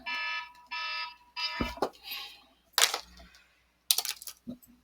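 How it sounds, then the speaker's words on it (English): Repeated electronic alarm tones sound in bursts, loud and close, with short gaps and sharp clicks between them during a lesson. "I apologize for alarms going off"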